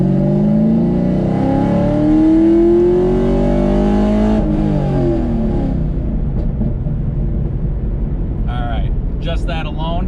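A Chevrolet Camaro with a Ram Air intake and a new filter revs from about 2,000 to 6,000 RPM, climbing in a loud, close, rising drone that peaks and then falls back toward idle, with a voice briefly talking near the end.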